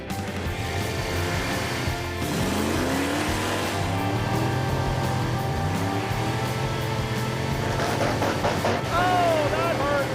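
A high-riding off-road car launches in low gear and accelerates, its engine roaring and climbing in pitch in a loud, continuous run, reluctant to shift, with brief squeals near the end.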